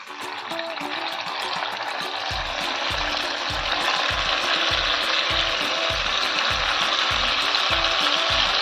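Fasting bhaji fritters fry in hot oil, a dense steady sizzle with bubbling, punctuated by regular soft clinks of a utensil stirring or lifting them.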